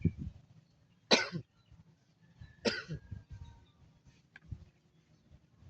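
Two harsh, raspy coughs a couple of seconds apart, close by, with faint murmuring and low background noise between them.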